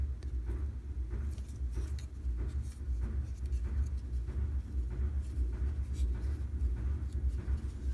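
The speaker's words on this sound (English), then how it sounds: "And I apologize for the noise. That's the laundry." A laundry machine runs in the background, a steady low rumbling hum with a faint mechanical churn. Soft scratching sounds, like pencil on paper, occur intermittently close by.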